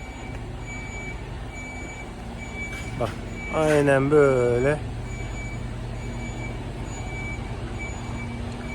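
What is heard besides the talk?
truck with semi-trailer reversing, reversing beeps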